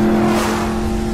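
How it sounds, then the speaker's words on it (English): A NASCAR race car at Daytona International Speedway revs close and loud, its engine holding a steady, sustained roar through the clip with no talk. "drive a NASCAR race car at Daytona International Speedway"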